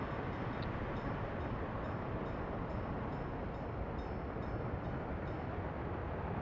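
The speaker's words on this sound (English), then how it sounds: "Another train moving through here." A train in the Workers and Resources game rolls through as a steady, broad rumbling drone that holds at an even level throughout, with no talk over it.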